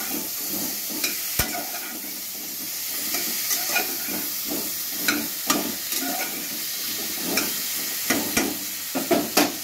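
Spices being sautéed in a pan over low heat for a Lakshmi Puja bhog dish, with a steady soft sizzle under repeated stirring scrapes and occasional sharp clicks of a utensil against the pan.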